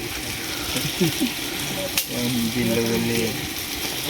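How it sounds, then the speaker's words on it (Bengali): Khichuri being stirred in a pot over a stove, with soft scraping and a low sizzle while people talk nearby. "এই যে খিচুড়ি প্রায় শেষ পর্যায়ে তো এখন লাড়াচাড়া দিতেছে যাতে নিচে না লাগিয়া যায়"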